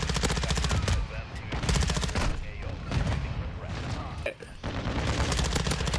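Rapid automatic fire from the Bas-P submachine gun in Modern Warfare 2, a near-continuous loud rattle of bursts with a brief gap before firing resumes.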